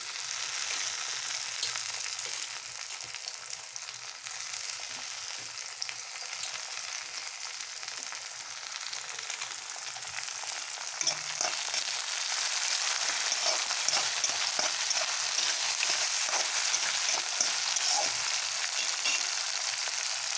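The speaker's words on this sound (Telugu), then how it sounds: "టమాటాలు వేస్తున్నానండి" Chopped tomatoes fry in a hot pan for a pumpkin curry, a dense continuous sizzle that swells slightly louder partway through, with faint stirring ticks and no talk.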